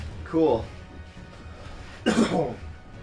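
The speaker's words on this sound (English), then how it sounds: "Excuse me for coughing." A person gives two short coughs about a second and a half apart, close and fairly loud, with a faint murmur of background sound between them.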